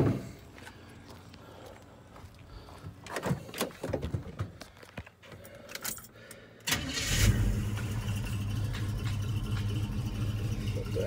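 A 1986 GMC 4x4 short-bed pickup truck cranks for several seconds with uneven bursts, then catches and settles into a loud, steady, rumbling idle close by.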